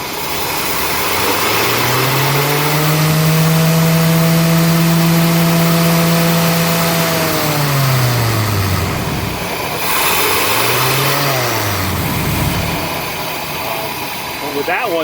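A carbureted RV engine being worked on during repair, revved up into a long rising and falling whine, then revved briefly again, loud and close with a rough idle between.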